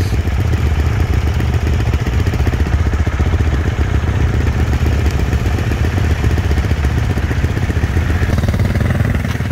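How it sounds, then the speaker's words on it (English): A Honda CRF 250 RX dirt bike and other dirt bikes run at a track, their engines a constant dense buzzing clatter that stays loud and close throughout with no talk. "And Hunter's gonna be riding that Moto 250. And Conner's got his Honda CRF 250 RX."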